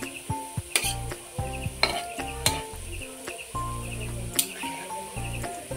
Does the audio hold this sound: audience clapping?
no